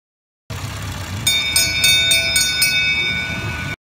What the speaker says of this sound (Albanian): treni i fëmijëve, i cili nuk ka shina, duke bërë që fëmijët të shëtisin në të gjithë parkun